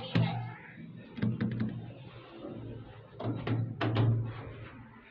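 A Mitsubishi elevator door slides shut, with clunks and mechanical knocks and a low hum across several seconds, close by and moderately loud.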